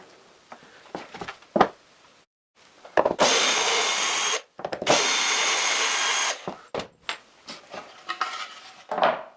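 A power drill bores bolt holes through a new wooden board in a workshop, in two sustained whirring bursts of about a second and a half each, with clatter and knocks from handling the workpiece before and after.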